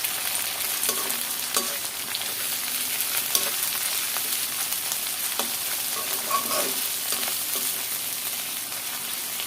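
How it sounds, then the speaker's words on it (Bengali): Shrimp and green chilies fry steadily in a pan, a dense, even sizzle running the whole time with a few soft scrapes of stirring, close and alone with no voices. "এখন আবার একটু ভালো করে ভেজে নেব।"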